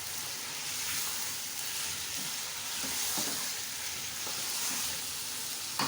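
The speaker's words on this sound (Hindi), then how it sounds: "हरी मिर्चों के साथ भुनाई करें अच्छी तरह से" Mutton chops frying with green chillies in a pan, a steady sizzle with stirring scrapes throughout, close and continuous with no talk.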